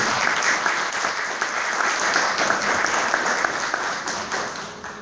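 An audience at a school exhibition event gives the president a loud, sustained round of applause. Dense, even clapping fills the whole stretch, with no distinct voices.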